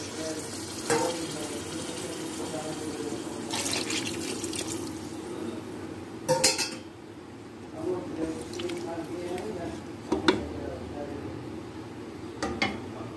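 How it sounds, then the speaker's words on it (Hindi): Water splashes and trickles in several short bursts into a cooking pot of rice, with clattery kitchen handling sounds between pours. "चार कप चावल है तो उसमें छः कप पानी डालूंगी मैं"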